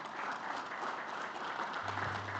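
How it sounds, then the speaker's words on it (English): A conference audience gives a round of applause in a plenary hall, a faint, even patter of many hands heard from a distance with a low hum underneath. "A round of applause for Dr. Henry."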